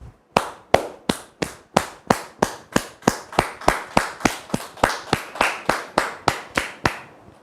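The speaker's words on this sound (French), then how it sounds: "acclamations et des applaudissements bien nourris" Slow, evenly spaced single claps, about three per second, sharp and close, repeating in a steady rhythm for the whole stretch on a television talk show set; no cheering voices are evident.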